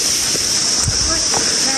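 A river rushes in a steady, loud broadband wash after recent rain, filling the whole moment with constant flowing noise and no clear talking.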